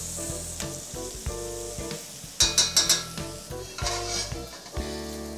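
Meat and onions dusted with flour sizzle steadily in a hot pan while being stirred, with a few sharp clinks of a utensil against the pan partway through.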